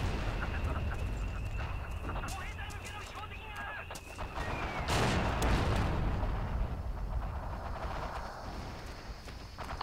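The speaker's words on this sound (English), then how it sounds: "I keep hearing a gun firing here." Gunfire echoes in the World War II shooter Forgotten Hope 2 on the Tulagi map, sharp repeated shots at the start over a constant loud roar of battle ambience.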